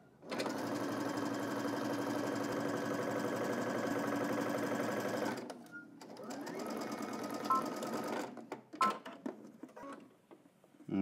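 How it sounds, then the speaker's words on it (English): Sewing machine running steadily to stitch a straight seam down to a garment hem, a close, continuous mechanical whir for several seconds before slowing, then a few scattered clicks and handling sounds. "now continue all the way down to the hem using a regular stitch, 5/8 inch away from the edge"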